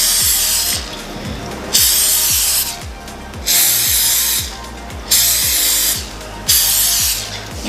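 Four separate bursts of cooking oil spray hiss into ramekins, each about a second long, spaced evenly over a steady low rhythmic tapping in the background.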